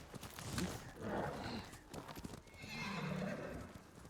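In the video game Ghost of Tsushima, a horse whinnies loudly while its hooves clip-clop in a steady walking rhythm, close by, with a second neigh rising near the end.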